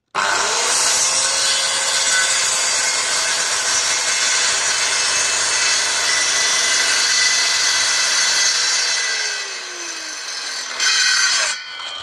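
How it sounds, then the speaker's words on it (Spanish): Circular saw cutting through wood: a loud, close, steady high whine with grinding bite that holds for about nine seconds, then winds down as the blade coasts, followed by a brief final burst. "Pongo mi sierra, un poquito más atrás, siempre de, la madera, que no esté tocando la madera, empiezo a, operar la máquina y luego avanzo."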